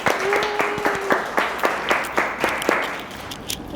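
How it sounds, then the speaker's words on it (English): An audience at a young professionals health panel claps for the panelists, a moderate burst of applause with a few distinct sharp claps standing out, tapering off toward the end. "Everyone give our panelists a round of applause."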